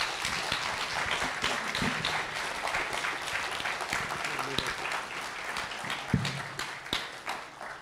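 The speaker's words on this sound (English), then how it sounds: "Let's all give a round of applause for both our debaters here." A university audience applauds the debaters at the close of a debate, clapping in a continuous, moderately distant wash with some sharper individual claps standing out and talk mixed in.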